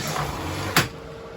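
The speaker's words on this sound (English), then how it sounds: "The door right here, just got the little travel latch, it's that little snap." A single sharp snap of the small door travel latch inside a 2021 Wildwood 24RLXL travel trailer, heard once against a steady background hiss.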